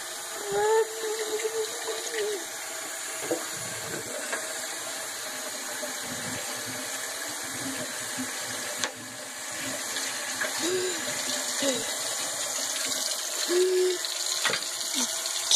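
Running water pours steadily from a tap, a continuous hiss with a few small splashes, while a voice talks over it at times.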